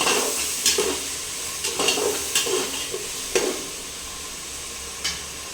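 Chillies and other ingredients being sautéed in a pan, the spatula scraping and stirring in irregular strokes over a steady soft sizzle, close by, with no voices.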